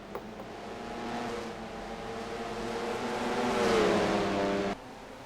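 Race cars of a Mello Yello stock car series roaring into a turn, engine drone swelling steadily as the pack approaches and passes close, then cutting off abruptly near the end.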